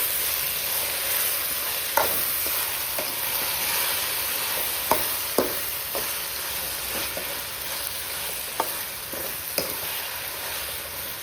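A steady, close sizzle of onions and tomatoes sautéing in a hot pan, broken by occasional soft scrapes and taps of stirring. No one speaks.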